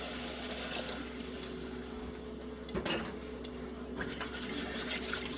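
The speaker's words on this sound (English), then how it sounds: "And we're going to stir this in" A utensil stirs milk into cream gravy in a pan, with soft scraping and sloshing taps against the metal, quiet and close, with no talk.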